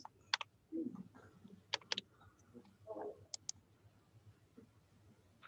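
A computer mouse clicks a few times during a social sciences presentation session, sharp faint ticks scattered irregularly through a quiet room with low background murmur.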